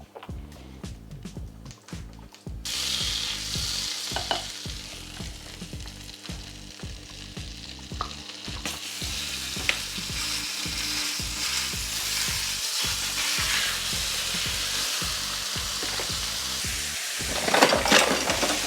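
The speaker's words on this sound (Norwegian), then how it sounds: "lar vi det bli ordentlig varm panne før vi legger i kjøttdeigen, sånn at vi steker den og ikke koker den" Ground beef and onion fry in a hot pan with a loud, continuous sizzle, joined by repeated scraping and knocking of a spatula against the pan and a louder burst of frying near the end; no one talks.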